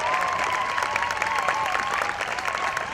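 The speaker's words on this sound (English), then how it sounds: "Please, another round of applause for all of our speakers." A rally crowd at an outdoor event against a freeway expansion applauds its speakers, with a dense continuous patter of clapping throughout.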